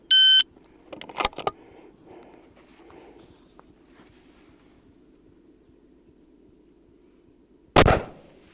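A start beep opens a 500-yard timed shooting challenge at a ranch, followed by loud sharp gunshots, a pair near the start and another near the end, with faint outdoor background between.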